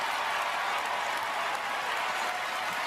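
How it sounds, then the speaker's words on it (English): A crowd applauding and cheering, a dense steady wash of clapping that stays loud and even throughout with no single voice standing out. "Why are they all cheering?"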